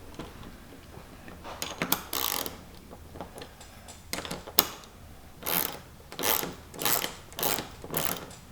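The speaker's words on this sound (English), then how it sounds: "with the 10mm open end wrench here. So we're just going to tighten this up." A 10mm open-end wrench tightening a bolt while fitting a tip-out windshield on a 2022 Honda Pioneer 520, with close metallic ratcheting clicks and scrapes in uneven bursts that become more regular toward the end.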